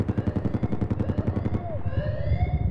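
Rapid automatic gunfire in Battlefield 4, a fast even burst of loud close shots that gives way to rising and falling synthetic tones, with no talking.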